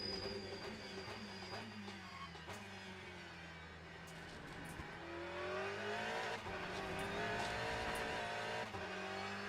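Race car engine in the video game Le Mans Ultimate, a steady droning exhaust note with shifting pitch as it revs through gears, continuous and fairly loud throughout, with no talking.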